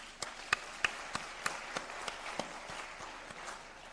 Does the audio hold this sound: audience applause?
yes